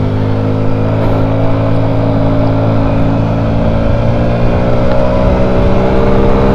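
A Honda Scoopy Metropolitan scooter engine drones at steady revs, struggling slightly under load, loud and continuous with a buzzy harmonic tone and no speech.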